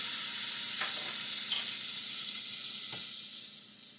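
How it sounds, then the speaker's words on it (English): Steady crackling sizzle of butter and olive oil in a hot pan, continuous and fairly close, with a few faint clinks and no talking. "Yeah, get that sizzling."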